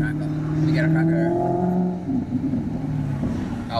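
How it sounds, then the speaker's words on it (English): A Maserati's exhaust crackles and pops as the engine revs and the car passes, a loud rising drone that swells then breaks into irregular crackles, with people talking over it. "is that a crackle of the exhaust? Oh, it's a nice crackle"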